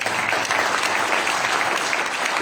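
A church congregation at a Sunday morning service gives a steady round of applause, dense, loud and sustained throughout with no voices over it.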